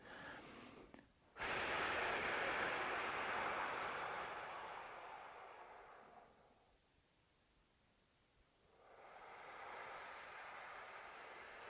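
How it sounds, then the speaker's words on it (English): An instructor in a taiji class demonstrates an exaggerated, loud out-breath, a long airy exhale that fades to near silence before another breath rises. "So here's your out breath."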